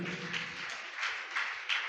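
An audience at a Christian sermon gathering applauding, a dense, fairly steady wash of clapping with a few swells.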